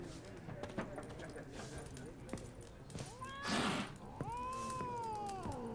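A cat in The Witcher 3 gives a few rising meows amid game ambience, with horse whinnies and clip-clop nearby and character dialogue over the top.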